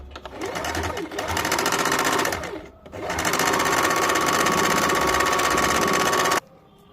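A sewing machine runs in two long bursts while a blouse sleeve is stitched, pausing briefly near the middle before a steady, loud run that cuts off abruptly at the end.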